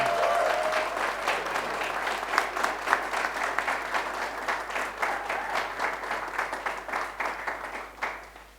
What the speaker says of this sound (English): Please put your hands together, give a massive round of applause